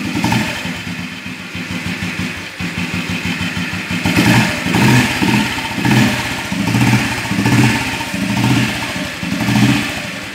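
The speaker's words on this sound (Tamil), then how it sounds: "வண்டி வந்து எலக்ட்ரானிக்கில் இப்போ ஸ்டார்ட் ஆகிடுச்சு." An old Bullet motorcycle with dual-mode point and CD electronic ignition runs after starting, a loud, close thumping single-cylinder idle with a steady beat that swells into rhythmic throttle blips.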